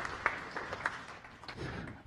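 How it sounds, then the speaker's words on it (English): Audience applause after a science cafe talk, a light, soft patter of clapping from a modest crowd, faint and fairly distant, lasting about two seconds with no voices. "Let's give her a round of applause."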